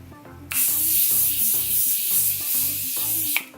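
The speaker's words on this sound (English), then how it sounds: "I'm just gonna spray." Makeup setting spray mists from a hairspray-style bottle in one long continuous hiss, loud and close, starting abruptly and cutting off sharply, with faint background music beneath.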